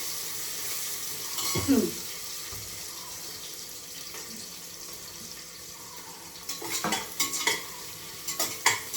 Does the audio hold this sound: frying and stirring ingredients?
yes